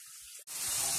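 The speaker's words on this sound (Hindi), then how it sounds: "चलाते हुए तेल फ्लेम पे ही हम भिंडी पका रहे हैं" Okra frying in oil over a gas flame while being stirred, a steady close hiss that cuts briefly and resumes louder, with faint scraping underneath.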